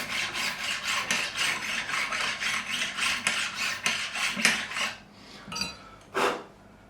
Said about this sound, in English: I'm just going to level over these frets, just skim over.